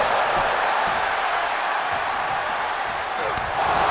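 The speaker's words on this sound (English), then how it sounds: "Listen to this crowd." A WWE 2K25 arena crowd roars steadily and loudly through a Rhea Ripley versus Roman Reigns match, a dense sustained wash of cheering with no breaks.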